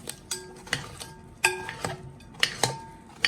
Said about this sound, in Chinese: 我们就用个小刀，直接在盆子里像这样子给它划成块儿